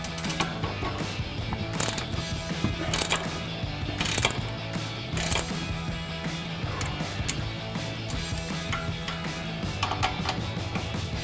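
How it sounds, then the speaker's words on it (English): A ratcheting wrench with a 5mm Allen socket tightens the strut lock nut on a 2005-2009 Mustang GT front strut assembly, giving a steady run of close, rhythmic ratchet clicks with sharper snaps every second or so. "we've got our ratcheting wrench and our 5mm Allen socket. And tighten this down."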